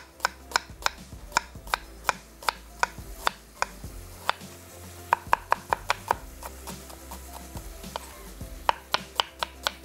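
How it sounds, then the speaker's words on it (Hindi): A knife finely slices a medium onion on a board, with rapid, crisp taps in quick regular runs and short pauses between bursts, close and clear with no talking. "यहाँ पे अब ले लेंगे एक अदद दरमियानी प्याज, और इसको हमने बारीक स्लाइस करके"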